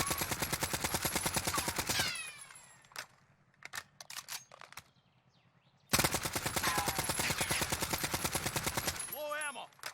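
AN94 rifle fire in Warzone, fitted with a factory X4 38mm barrel, a commando foregrip and a 30-round magazine: two long rapid bursts of loud automatic shots, separated by a gap holding a few isolated clicks and shots.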